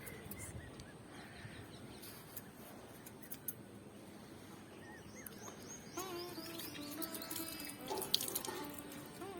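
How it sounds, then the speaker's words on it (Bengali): A tulsi shrine is washed down with water, producing faint, continuous running and splashing water, with birds chirping softly in the background. "ধোয়া হচ্ছে, প্রত্যেক দিন এইভাবেই ধোয়া হয়।"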